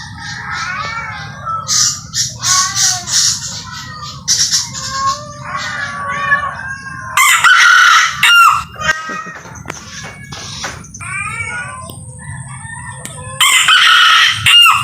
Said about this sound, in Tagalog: Matinis talaga itilaok ni Chinese chicken eh.